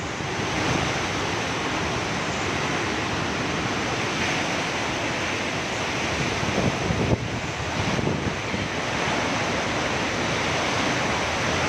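Super Typhoon Rolly's signal number 5 winds roar steadily in the Philippines, a loud, dense, unbroken rush of gusting air and wind buffeting with no talking.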